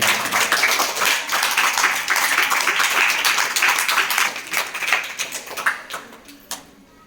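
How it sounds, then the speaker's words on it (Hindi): Students clapping in a primary school classroom, a brisk burst of applause that holds steady and then thins out into scattered claps before stopping. "इस सदन का शुरुआत करें जोरदार तालियां से"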